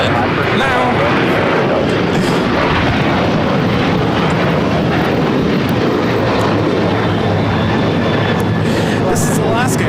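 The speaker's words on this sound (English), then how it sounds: "This is Alaska Airlines 1412 taking off to Liberia on the 737-900 ER." An Alaska Airlines Boeing 737-900ER taking off from LAX, a loud continuous engine roar filling the whole stretch, with people talking faintly underneath.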